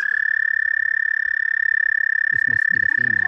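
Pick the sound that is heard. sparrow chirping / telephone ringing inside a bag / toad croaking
toad croaking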